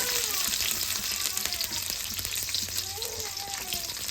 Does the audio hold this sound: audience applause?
no